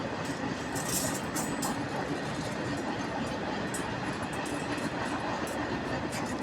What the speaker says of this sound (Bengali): বহুত বড় একটা ট্রেন দেখতে পারেন